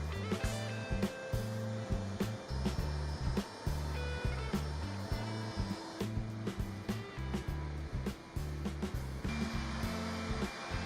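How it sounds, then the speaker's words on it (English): Clindex floor polishing machine working concrete floor edges with polishing pads, a steady rough grinding drone broken by rhythmic dips and surges as the machine moves, close and continuous with no talking. "And we continue with the polishing pads on the edges, including the use of our Clindex machine and some hand polishing as well"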